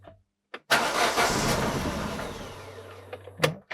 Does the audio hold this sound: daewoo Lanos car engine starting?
yes